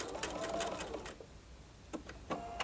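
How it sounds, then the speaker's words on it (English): A sewing machine stitches the yoke seams of a shirt, first with a fast close whirring run and then a pause broken by a few short bursts of stitching. "at the end of the seams, just do your reverse stitch to secure everything."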